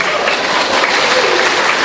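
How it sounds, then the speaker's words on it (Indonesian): Audience applause during a church sermon, a loud, continuous patter of many hands clapping at an even level across the whole moment. "Nggak usah tepuk tangan, tapi investasinya turun."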